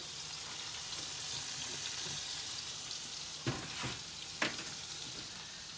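Cauliflower frying in oil in a pan, giving a steady close sizzle that runs throughout, broken near the end by a couple of sharp clatters from stirring.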